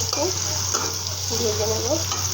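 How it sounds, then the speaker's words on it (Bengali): Onions just added to hot oil for a small-fish chorchori, frying with a steady close sizzle under a low hum, while a voice speaks softly over it. "এখন আমি পেঁয়াজ দিয়ে দিলাম, তেল দিয়ে দিয়েছি"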